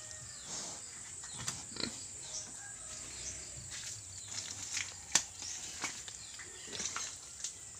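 Native pigs on a provincial farm in the Philippines grunt softly and shuffle after being fed, faint and scattered over a steady hiss of outdoor insects, with an occasional sharper knock.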